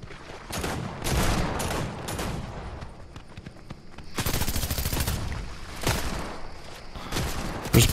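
Gunfire rings out in a realistic shooter video game, with bursts of rapid automatic fire and scattered single shots coming from several directions, loud and dense over a rumbling backdrop.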